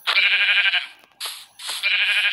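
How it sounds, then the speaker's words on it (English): Three bleats from a Minecraft sheep when it is hit in the game, loud and close: one long bleat, then a short one, then another long one, with no talking. "Now hit the sheep."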